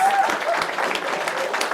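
Stand-up comedy audience applauding, a dense burst of clapping throughout the short stretch, with a brief whistle near the start.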